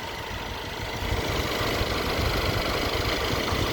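Engine bay of a 2014 Mercedes E63 4matic with about 115k km, the radiator fan spinning as a steady, loud broadband whoosh over a constant low engine hum, running unbroken with a slight rise in level partway through.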